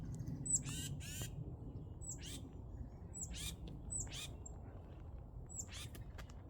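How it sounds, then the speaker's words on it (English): A small bird calls from up overhead, giving a series of about seven short, sharp chirping calls spaced a second or so apart, fairly faint over a low steady background hum. "Little bird up there making noise."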